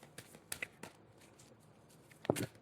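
Quiet, close shuffling of tarot-style reading cards, with a few soft riffles and flicks and a sharper slap near the end.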